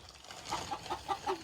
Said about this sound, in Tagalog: nagbisita ti manoksen.